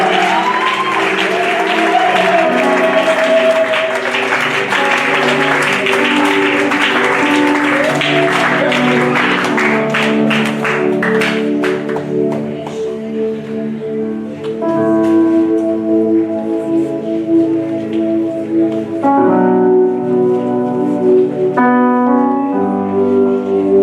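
A church congregation breaks into loud, sustained applause and cheering, a dense roar of clapping and voices that gradually thins out while music continues underneath.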